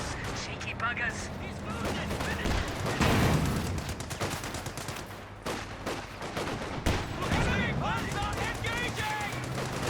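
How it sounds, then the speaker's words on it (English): Infantry gunfire in the Company of Heroes 2 video game: dense bursts of rifle and machine-gun fire with occasional heavier booms, running steadily under excited talk. "Infantry firing at us."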